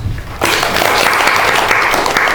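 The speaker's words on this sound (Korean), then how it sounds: "네, 박수." An audience at a poet's first book launch talk event breaks into applause after a brief quiet moment, with a loud, full round of clapping from a gathered crowd.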